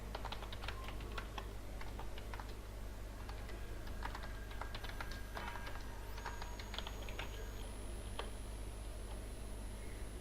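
Computer keyboard keys click in quick irregular bursts as a username and password are typed, close and crisp over a low steady hum, with no talking.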